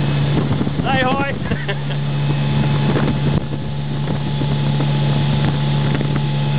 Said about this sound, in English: Here's the inaugural electric motor run.